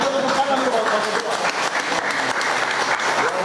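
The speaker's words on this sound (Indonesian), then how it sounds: "kita tepuk tangan nih Bapak Ketua" An audience at the handover ceremony for the new regional PAN party chairman in Merauke claps loudly and continuously, a dense crowd applause with some voices mixed in.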